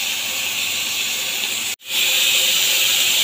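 Raw mango pieces go into hot oil tempered with green and dried chili for a Bengali chutney, and a loud steady sizzle hisses on. It drops out briefly, then returns just as strong, with no talking.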